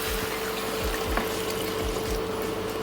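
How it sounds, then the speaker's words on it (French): Water pours steadily into a pot over chopped vegetables for pumpkin soup, a continuous close gushing and burbling with a faint rhythmic pulse and no speech. "Ensuite, je vais les couvrir d'eau."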